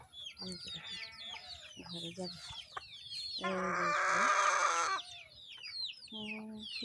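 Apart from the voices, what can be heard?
chickens and rooster clucking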